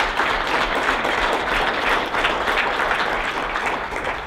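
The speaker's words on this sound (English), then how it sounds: "So I want to give her a round of applause." A Wayzata Chamber of Commerce audience claps for a community fundraiser, a sustained, even wash of applause from a large crowd that holds steady and fades slightly at the end.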